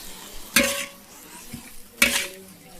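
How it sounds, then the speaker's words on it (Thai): Dao doi greens stir-fry with a pinch of salt in a little oil, a soft sizzle broken by two sharp scraping stirs of the spatula against the pan. "ใส่เกลือเล็กน้อย แล้วเราก็ผัด"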